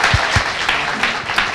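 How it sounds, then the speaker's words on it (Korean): A crowd at a Korean talk show event claps for a lawyer just introduced on stage, the applause continuous and moderately loud with a few sharper claps standing out. "박수 부탁드립니다."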